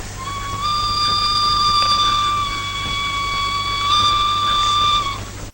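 A toy train set's steam-style whistle from a film sounds as a long sustained shrill multi-tone blast, briefly dipping mid-way and then swelling again before cutting off, loud and alone over a faint hiss.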